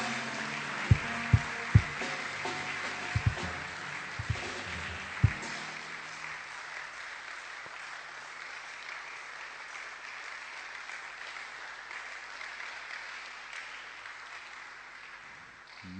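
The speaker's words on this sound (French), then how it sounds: "Est-ce que nous pouvons rendre hommage au Seigneur et en l'acclamant" Church congregation breaks into scattered clapping and acclaim, a few sharp hand claps standing out over a broad wash of applause that fades into a sustained crowd murmur and cheering.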